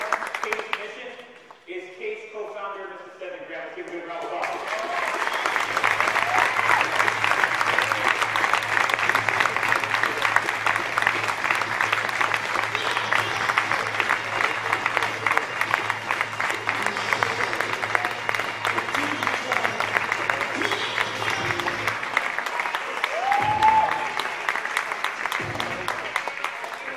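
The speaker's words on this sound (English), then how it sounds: "Let's give a good round of applause." An audience at a youth success event applauds a co-founder: a long, steady wash of many hands clapping that holds for over twenty seconds, with brief voices at the start and a low hum underneath.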